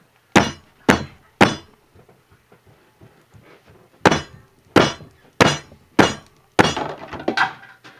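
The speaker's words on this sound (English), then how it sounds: "there goes my crock pot lid" A ceramic or glass crock pot lid falls and shatters, giving a string of sharp crashing impacts, three close together, then four more after a pause, with clinking fragments settling at the end.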